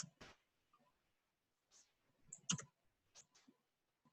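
Scattered keystrokes on a computer keyboard, a few soft isolated clicks and short bursts with one sharper tap, fairly quiet with pauses between.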